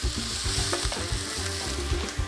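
Broccoli sizzles and fries in a hot pan for a frittata, a steady close crackle broken by the scrape and clatter of a utensil stirring it around.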